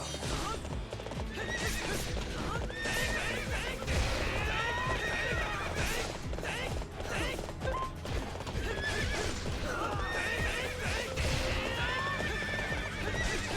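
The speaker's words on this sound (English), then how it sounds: "we have Link on a very real horse that will kill you" A horse in a video game, Link's mount, neighs and whinnies repeatedly over steady clip-clop hoofbeats, loud and close, with busy game sounds throughout.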